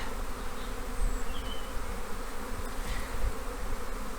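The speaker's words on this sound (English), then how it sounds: "Again, the swarm in the other tree, so I believe this is Queenie" A honeybee swarm being collected from a tree fills the air with a dense, steady buzzing hum that stays close and constant, with no voices.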